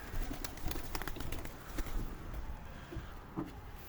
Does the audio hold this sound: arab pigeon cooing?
yes